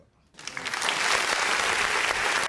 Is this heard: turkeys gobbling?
no